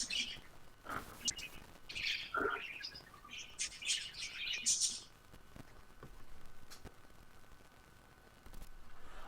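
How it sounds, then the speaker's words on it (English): Small birds chirp and tweet in scattered, high bursts through the first half, fairly faint against a steady background hiss, with a voice briefly talking among them before the calls fade away. "You got some birds."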